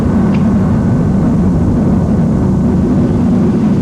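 A B-1B Lancer bomber in flight, heard as a loud, constant, dense engine roar with deep low rumble that holds steady throughout, no voices over it.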